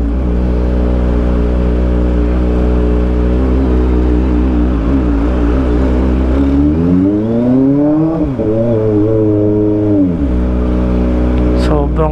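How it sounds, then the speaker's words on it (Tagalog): A 2023 Kawasaki ZX25R SE sport motorcycle with a loud aftermarket exhaust drones and revs nearby in traffic, its pitch climbing and dropping through throttle blips, loud and continuous throughout. "Sobrang bastos ng motor na to."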